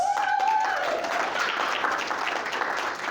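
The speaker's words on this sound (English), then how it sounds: "getting an applause from the audience" Steady applause from a conference audience at a hypnosis business event fills the whole stretch, dense and sustained, with a brief tonal sound at the start.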